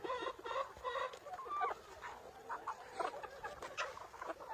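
Young chickens cluck and chatter in a village yard in late autumn, with a rooster among them, a close, busy run of short clucks and calls.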